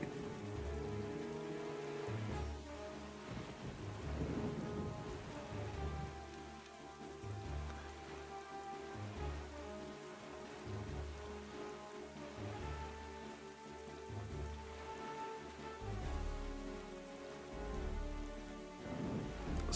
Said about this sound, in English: is the storm going to let up?